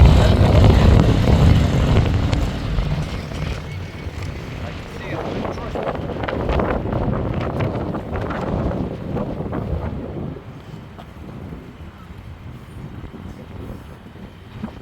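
Strong wind buffets a microphone near a patrol car, a loud rumbling roar that is heaviest at first and then eases. People talk underneath it.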